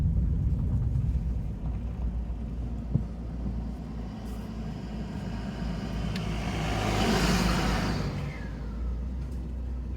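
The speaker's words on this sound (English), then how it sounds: "There's a car coming behind me. I'm going to pull over here to let him go by." A car approaches from behind on a quiet mountain road and passes by, its engine rumble swelling gradually to a peak and then fading away, with a steady low drone underneath.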